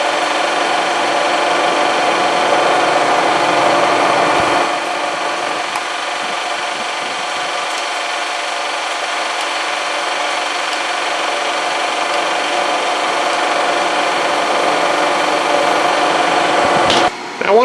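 A drill bores a hole for a heater in a DIY oxalic acid vaporizer, giving a loud continuous whirring grind that holds steady for a long stretch before stopping abruptly near the end.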